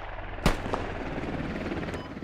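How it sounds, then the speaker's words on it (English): An enemy helicopter in the video game Squad, heard as a low, continuous rotor rumble mixed with game ambience, with a couple of sharp gunshot-like cracks early on. "Enemy helicopter."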